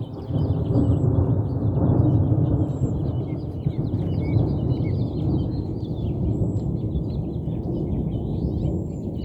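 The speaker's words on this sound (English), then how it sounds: "Whoa, that was a really long time for thunder" Low, sustained rumbling thunder rolls on without a break during a rain and lightning storm in central Oregon, with faint bird chirps high above it.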